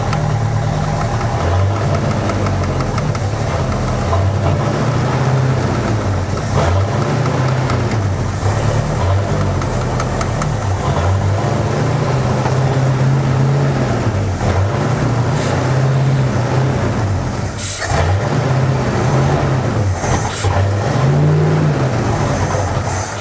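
A 1972 Ford Galaxie 500 station wagon engine, revived after sitting about 20 years, idles steadily and loud with a rough, pulsing low rumble that swells slightly now and then, running alone throughout.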